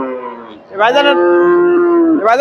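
Close, loud mooing from a Friesian cow at the Chandaikona cattle market: a short call, a brief break, then a long sustained bellow that tails off, with a trace of crowd noise around it.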